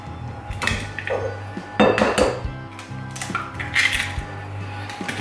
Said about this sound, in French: On va fouetter le tout ensemble.